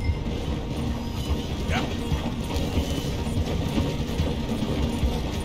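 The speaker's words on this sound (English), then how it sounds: "The train is slowing down to go through the station." A train in Red Dead Redemption 2 slowing as it passes through a station, a steady mechanical clatter and rumble of wheels and couplings, continuous and close, with a brief spoken word over it.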